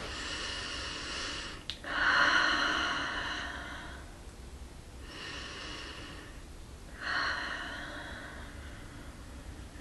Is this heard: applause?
no